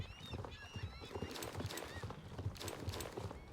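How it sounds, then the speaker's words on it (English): Horse hooves clip-clop in a steady, even rhythm during a ride on a Noriker horse in the Star Stable Online video game, with occasional whinnies and bright game tones above the close, continuous hoofbeats. "It speaks volumes to how much I enjoy riding the horse."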